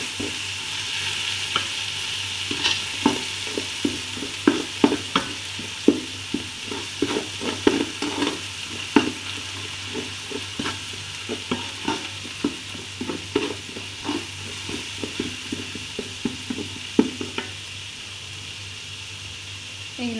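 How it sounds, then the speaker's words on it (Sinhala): Chopped ginger and garlic sizzle steadily in hot oil for chicken kottu, with a continuous frying hiss and frequent sharp scrapes and taps of a utensil stirring the pan up close. "අපි ඒකට chop කරගත්තු ඉඟුරු ටිකයි සුදු ලුණු ටිකයි දාගමු. ඒකත් තෙලේ ටිකක් බැදගමු."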